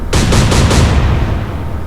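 Naval gunfire from warship turrets in the Atlantic Fleet video game: a loud, booming salvo of several rapid blasts in quick succession, decaying into a rumbling tail.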